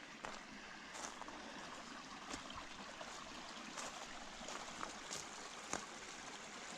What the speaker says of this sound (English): Nice little rippling sounds of the water.